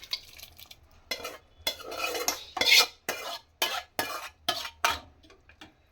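Repeated scraping and clinking of a spoon stirring tempered masala into bisi bele bath in a metal pot, in irregular bursts with short pauses, close and fairly loud.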